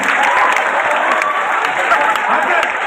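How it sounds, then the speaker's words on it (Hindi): Audience applause at the Gorakhpur Pustak Mahotsav 2025 book fair, a dense continuous wash of many hands clapping, loud and close, with a faint crowd murmur beneath it. "ताली बजा दो, जैसे सफारी वर्मा है।"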